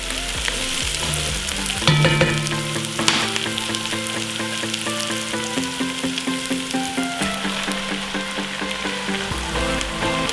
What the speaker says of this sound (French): rajoute la viande et fais-la dorer de tous les côtés